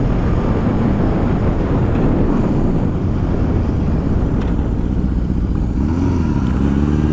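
Honda CB750 motorcycle accelerating hard from a standing start with possible clutch slip, a dense, steady engine roar held close and loud across the whole run with no talk.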